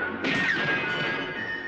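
A single sharp gunshot crack from a spaghetti-western film score bursts out loud and close, followed by a ringing, reverberant tail that fades slowly over the music.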